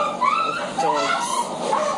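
Dogs whine and yip in short rising and falling cries from a nearby house, fairly close and clear, with faint voice-like chuckling sounds mixed in.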